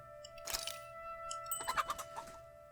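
Chickens cluck on a ranch in the video game Tales of Arise: scattered soft clucks and short calls, fairly quiet, with a low steady background hum and no talking.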